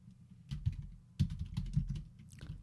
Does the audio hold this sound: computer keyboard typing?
yes